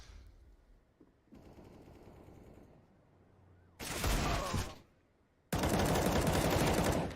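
Desert Eagle pistol fire in a Counter-Strike match on Vertigo, heard as loud bursts of rapid shots in two dense blocks, separated by quieter in-game ambience.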